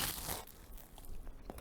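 A quick bite into crunchy Korean hangwa, a snack made from glutinous and brown rice puffed in hot salt rather than oil, gives a brief, faint crackling crunch followed by a few scattered crumbly snaps.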